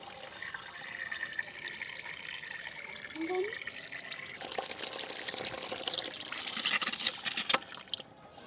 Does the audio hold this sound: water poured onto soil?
yes